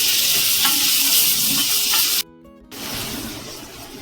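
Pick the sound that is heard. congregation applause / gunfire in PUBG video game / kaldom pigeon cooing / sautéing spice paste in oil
sautéing spice paste in oil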